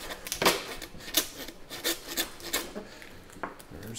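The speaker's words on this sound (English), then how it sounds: "I wouldn't be able to get through this bone with that cleaver, so I gotta use the handsaw." A handsaw cuts through a lamb hock bone during traditional butchering, its rasping strokes coming in a steady back-and-forth rhythm of about seven close, fairly quiet pulls with no talk.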